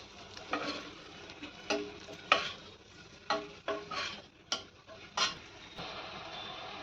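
Ground red masala paste with roasted coconut and garlic sautés in a pan, a soft sizzle under repeated distinct scraping stir strokes at an irregular rhythm, close and fairly quiet.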